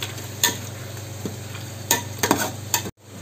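Onions and tomatoes sauté in hot oil for prawn biryani, with a steady sizzle and several sharp scrapes of a spoon in the pan, then a brief pause near the end.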